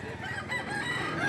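Roosters for sale at a livestock market in Lipa City, Batangas, crowing in a dense, continuous racket of overlapping calls with clucking fowl close by.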